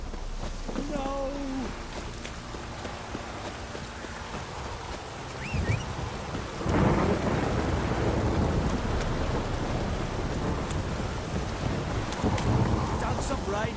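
Thunderstorm and rain in the video game Witcher 3: Wild Hunt, a steady hiss of falling rain with a low thunder rumble that swells partway through, under occasional game effects.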